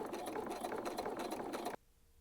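A sewing machine stitches leather or vinyl in one fast continuous whirring run, close and fairly loud, then stops abruptly and leaves near silence.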